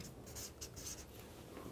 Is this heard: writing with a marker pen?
yes